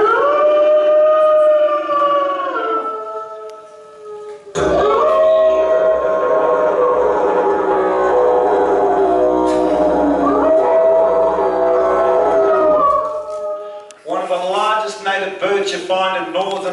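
A human voice imitates the howl of a dingo, the Australian native dog, with long wavering howls and siren-like rises and falls, loud and close, ending in a series of shorter yipping cries.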